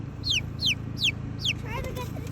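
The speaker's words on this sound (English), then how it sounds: "We've also got some new chickens and some new chicks." Chickens on a homestead cluck in short repeated bursts with bright chirps, the fowl calls standing clearly over a steady low hum of farm background.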